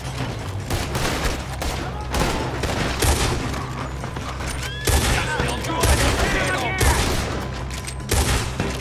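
Heavy gunfire in Red Dead Redemption, a steady crackle of rapid shots from several guns with booming reports, going on throughout under game music and a voice.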